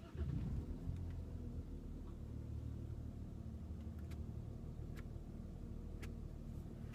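A 2014 Volkswagen Touareg TDI diesel engine idling quietly, a low steady rumble with faint regular ticks about once a second, heard close and without voices.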